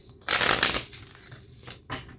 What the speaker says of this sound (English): I almost forgot to shuffle.